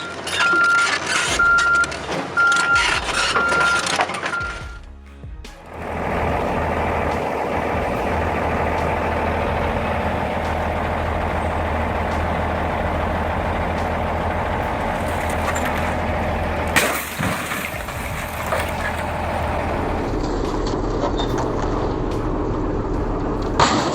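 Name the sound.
scrap machine dismantling an Audi A6 car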